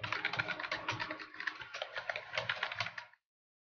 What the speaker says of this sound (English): I'm just gonna be typing in